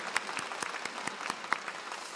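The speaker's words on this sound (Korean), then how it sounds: "우리 귀한 분들 위해서 축복의 박수 함께 보내셨으면 좋겠습니다" Sparse, scattered clapping from a church congregation at an Easter worship service, individual claps spaced unevenly over a couple of seconds, fairly quiet and with no voices over it.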